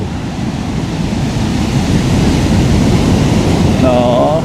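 Ocean surf rolls in on an Australian beach, a steady broadband roar of breaking waves with wind buffeting the microphone, loud and continuous throughout.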